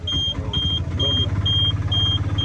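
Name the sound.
auto-rickshaw ride engine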